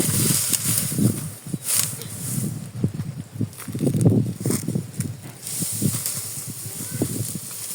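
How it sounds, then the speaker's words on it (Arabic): Gusty wind rushing and buffeting outdoors, with rustling and low rumbling bursts rising and falling throughout. "كيما قلت لكم هذا النهار شويه الريح"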